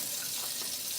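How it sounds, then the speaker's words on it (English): Hands being washed under a running tap in a workshop during a car brake job, a steady close hiss of flowing water without any voices. "Here's my hands currently. I'm gonna wash them, so that's what I'm gonna be doing."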